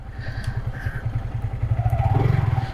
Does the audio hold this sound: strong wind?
no